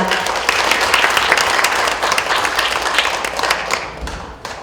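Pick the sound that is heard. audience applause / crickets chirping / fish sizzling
audience applause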